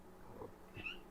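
A heavy cat gives a short, soft meow while someone holds it indoors. The single faint call sits over low room noise.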